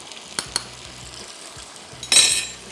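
Spices fry in a pot for prawn biryani, a close sizzle that swells sharply near the end, with a few metallic clinks of a spoon against the pot.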